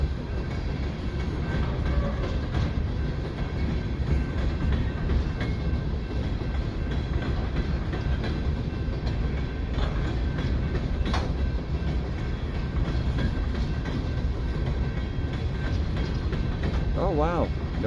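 A freight train rolls past nearby in a constant heavy rumble, with rhythmic wheel clatter and mechanical rattles, and faint voices now and then.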